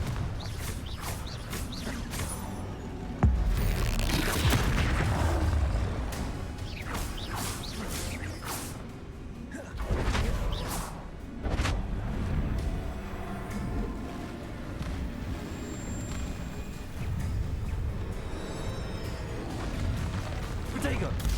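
Confringo spell explosions in the Hogwarts Legacy video game, a string of heavy blasts and whooshing bursts spread unevenly over the stretch, loud and booming amid combat noise, with spell words spoken between them.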